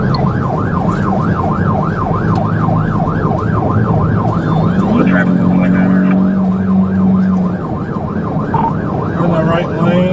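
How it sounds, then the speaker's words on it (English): Police car sirens wailing during a highway pursuit, a loud, rapidly cycling yelp that dominates the scene, joined midway by a second steady siren tone over constant road and engine noise. "driver, later identified as Jennifer Wilson, kept going, ignoring lights and sirens."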